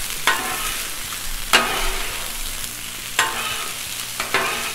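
Oil sizzles steadily on a Blackstone griddle while street corn cooks, a close hiss broken by a few short stirring scrapes at regular intervals, with no talking.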